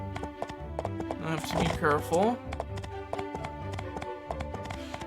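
Horse hooves clip-clop steadily in My Time at Portia, a regular beat of hoof taps running under a voice that rises in the middle.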